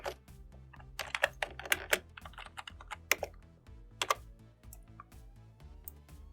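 Fast, uneven typing on a computer keyboard during programming, with close crisp key clicks in bursts and brief pauses, no talking.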